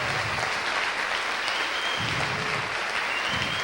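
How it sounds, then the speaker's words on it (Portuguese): A church congregation applauding during a worship service, steady continuous clapping throughout, loud and close, with no talk over it. "aplauda o Senhor mesmo, glorifica o nome dEle"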